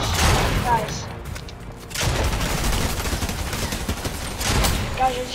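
Rapid SMG bursts from the Mythic Gunner in Fortnite, loud clustered gunfire rattling in two or three volleys over game ambience.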